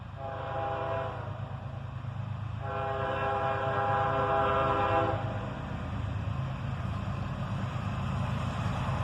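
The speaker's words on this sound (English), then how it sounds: "The leader still in its YN2 paint scheme and with a little bit of a fouled horn there." A CSX freight train, its leading locomotive in YN2 paint, passes with a slightly fouled horn. Two horn blasts sound, the second one longer, over a steady rumble of rolling cars.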